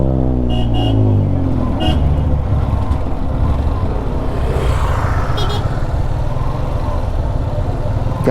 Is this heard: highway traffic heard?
yes